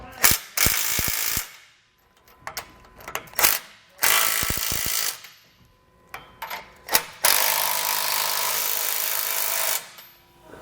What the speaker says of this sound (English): we're going to go ahead and snug down our hardware here.